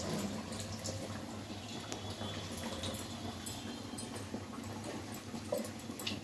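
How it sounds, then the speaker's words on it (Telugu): Garelu, lentil fritters, frying in hot oil make a continuous soft crackling and bubbling sizzle, steady and fairly faint, with no talking. "ఒక్కొక్కటిగా ఇలా నూనె కాగిన తర్వాత ఇలా చక్కగా ఇలా వేసుకోవాలి"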